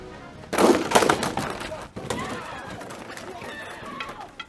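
Gunfire erupts in a naval mutiny scene in Bombay: a sharp burst of shots followed by scattered cracks and commotion, fading into softer noise under narration.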